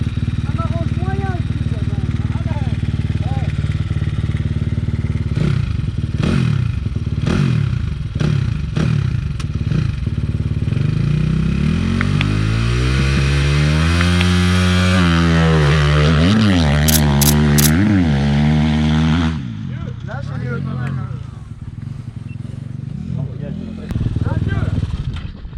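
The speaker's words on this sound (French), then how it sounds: "au moment où la moto sort, prend de la vitesse, la 2, elle se met à donner toute sa puissance" A motocross bike's engine revs up and builds speed, its rising pitch sweeping upward through the gears as it pulls hard, loud and close, with people talking over it and the roar dropping away near the end.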